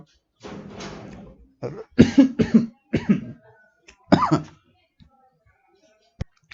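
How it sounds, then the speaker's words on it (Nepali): Several harsh coughs come in quick bursts, with a bit of throat clearing and short quiet gaps between them. "सरी अलिकति खोकी लाग्यो"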